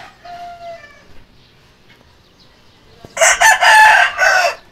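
Brief crowing and clucking from chickens bursts out loud near the end, after a quieter stretch with a faint voice earlier.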